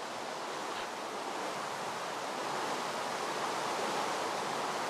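Rain in Minecraft: a steady, even hiss of falling rain, with no clear breaks from start to finish and no talk.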